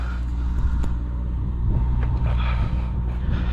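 A Traxxas X-Maxx RC monster truck, geared up and running belted tires, races at top speed with a steady, loud motor drone and rumble, with brief high whines and tire noise outdoors and no talking.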